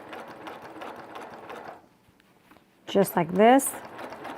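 A quilting sewing machine stitches about 1/16 inch from a fabric edge, starting in a short rising whir right after a brief spoken remark and a moment of quiet.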